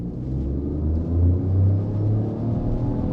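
A truck tractor unit's engine in sport drive mode gives a deep, steady, close rumble that swells slightly in the middle, with no voices over it.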